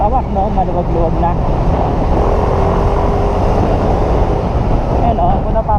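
Yamaha Aerox scooter fitted with an RS8 exhaust pipe riding through city traffic, its engine a loud continuous drone with road noise, while the rider talks over it.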